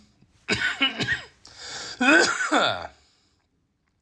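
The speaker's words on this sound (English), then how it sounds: "I should stop pausing to cough" A few harsh, breathy coughs and throat-clearing bursts from someone ill with flu and colds, close to the mic, spread across a couple of seconds, followed by silence.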